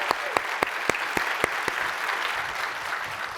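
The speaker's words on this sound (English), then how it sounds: "Yeah, clap it up." An audience at a SXSW 2023 talk applauds steadily, a dense, even wash of clapping with a few sharper, closer claps standing out early on.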